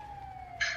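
Brief burst of an ambulance siren with a steady wailing tone and a brighter high-pitched layer joining near the end, loud and close over road noise.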